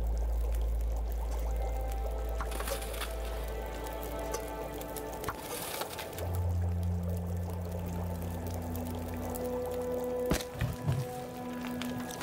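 Water being poured and collected during survival gameplay in The Long Dark, a steady rushing pour with gurgling and sloshing that shifts in tone partway through, ending in a few clinks and splashes, with no talk over it.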